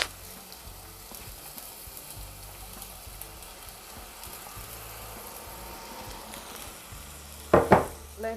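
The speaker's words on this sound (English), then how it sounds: "after all that is melted, I'm going to put my herbs in to fry up" Herbs frying in melted fat in a pot, a faint steady sizzle and crackle running throughout, with a brief louder clatter near the end.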